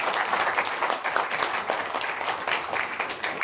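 A hall audience at a language and culture department event claps for two teams, a continuous, even round of applause with individual claps standing out.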